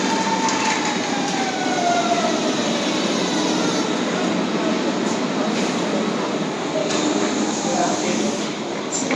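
Berlin U-Bahn subway train in a station, a steady loud rumble with faint metallic squeals and brake tones drifting across, continuous throughout with no clear breaks.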